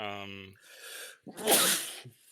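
One loud, close sneeze, starting with a voiced intake and ending in a sharp breathy burst.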